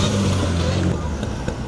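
A Mitsubishi Lancer Evo IX hill climb race car at the 2021 Kayseri Melikgazi event sounds as a loud, broadband engine roar that swells and then fades as it goes by, with crowd voices and commentary mixed in.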